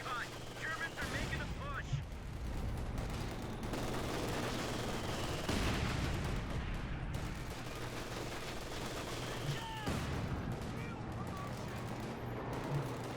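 Machine gun fire in the Company of Heroes 2 battlefield, with rapid bursts mixed into dense, continuous combat noise and scattered other gunshots throughout.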